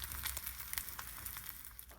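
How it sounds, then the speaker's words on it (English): Home-cured bacon frying in a pan gives a faint, steady sizzle peppered with small crackles and pops, heard quietly on its own. "That's the sound of bacon frying."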